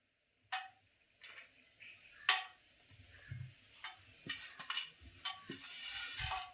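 Whole garam masala spices roasting in hot oil in a pan, with a spoon stirring them around: sharp, irregular clinks and scrapes of metal on the pan over a faint sizzle, close and fairly quiet.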